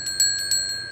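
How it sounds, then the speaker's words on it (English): A small brass bell rings in a few quick strikes, each leaving a bright, sustained metallic tone that hangs between hits; close and clear, with no voices. "It's a brass bell."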